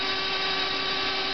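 A K.O. Lee automatic two-axis surface grinder with a 10-inch wheel runs steadily and loudly, its motor and spinning wheel giving a constant whine while the cross feed hand wheel inches at the end of each stroke.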